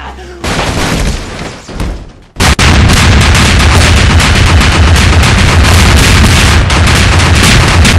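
Gunfire from the Half-Life 2 video game, a loud dense burst of shots that breaks briefly, then resumes as continuous heavy firing.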